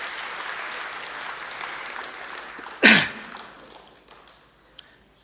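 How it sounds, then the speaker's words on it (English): Moderate scattered applause from a crowd at a public legislature gathering in the Eastern Cape. A sharp loud thump or bump cuts through midway, then the clapping thins and fades. "can we give him a round of applause again"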